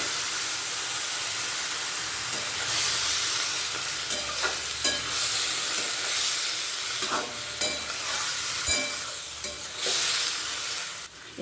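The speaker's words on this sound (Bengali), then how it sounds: "সবজিটা এবার ঢেলে দেবো" Vegetables tipped into a hot pan with dried fish (shutki) and shrimp, frying with a steady loud sizzle and hiss, broken by scraping stir strokes throughout.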